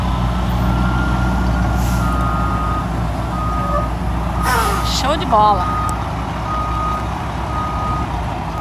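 A new Canadian Volvo truck reverses to line up, its backup alarm beeping at a steady rhythm over a loud diesel rumble, with a brief air-brake hiss and someone talking briefly.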